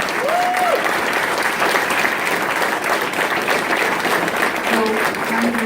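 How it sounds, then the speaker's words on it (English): At an evening honor society induction ceremony, an audience applauds the new student inductees with a continuous, full round of clapping that holds steady throughout, with faint voices mixed in. "You're going to get several rounds of applause tonight, but this one's your first."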